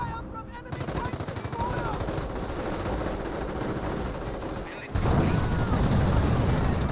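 M2 heavy machine gun firing in the Company of Heroes 1 strategy game, rapid sustained bursts amid battlefield gunfire and explosions, with a commentator talking over it.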